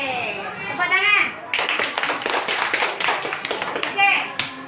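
Schoolchildren in a classroom lesson clap their hands together in a burst of close, sharp claps, with a teacher's voice speaking before and after the clapping.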